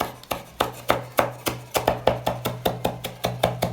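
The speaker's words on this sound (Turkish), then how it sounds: "Maydanozumuzu ince ince doğruyoruz." Knife finely chopping parsley on a cutting board, a fast, steady rhythm of crisp close taps repeating for several seconds with no talk.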